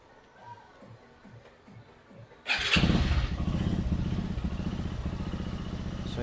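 A CFMOTO CF150NK motorcycle, just fitted with a new throttle position sensor, cranks and fires after a quiet moment, then settles into a loud, steady, close idle with a rapid even putter.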